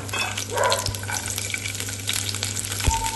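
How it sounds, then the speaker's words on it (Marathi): Garlic dropped into heated oil on a tava over a gas flame sizzles quietly and steadily up close, with a faint utensil clink near the end. "आता मी गॅसवर तवा ठेवलेला आहे आणि त्यात तेल टाकलेलं आहे। तेल तापलेलं आहे। आता त्यात लसूण घालूया"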